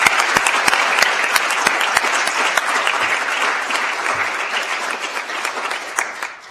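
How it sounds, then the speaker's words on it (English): Closing-session audience applause at a conference, a full room clapping loudly and steadily for several seconds before tapering off at the end, with no talking. "So if you could join me in a round of applause for Ruth and Erica."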